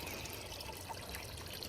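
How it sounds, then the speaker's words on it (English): Water pouring into a bucket on a farm, a faint steady trickling stream throughout. "I'm just filling up a bucket of water for someone special."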